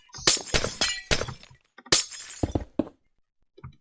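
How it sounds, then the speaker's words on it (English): Repeated glass-breaking bursts from a Minecraft game in creative mode, sharp shattering crashes in two close clusters of several hits each, loud and near, then a faint final crack. "I might even just do a video of me breaking glass."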